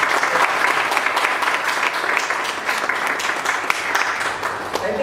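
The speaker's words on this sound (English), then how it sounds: "huge round of applause to Pranav, Sridhar" An audience at a corporate event bursts into a sustained round of applause, dense steady clapping from many hands filling the room.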